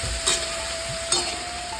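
Snake gourd (chichinga) frying in a pan, a steady close sizzle with two brief louder bursts as the pieces are stirred, alone with no talk.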